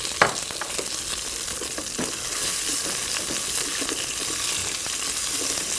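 Bitter melon and fenugreek seeds frying in a pan for Indian cooking, a steady loud sizzle and crackle with occasional stirring scrapes.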